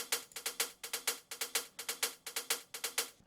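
Tech house hi-hat layer in shuffled sixteenth notes with LFO-driven stereo balance, bright, clipped ticks in a swung loop that repeats evenly, alone and soft.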